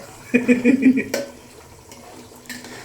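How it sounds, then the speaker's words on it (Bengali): Water splashing as rice is rinsed for a homemade biryani, in a short, clear burst followed by softer trickling and light clatter nearby. "আমরা এখানে চাল দিব একদম পুরা এটা ধুয়ে তারপরে হচ্ছে এটাকে শুকনো করে রাখছি"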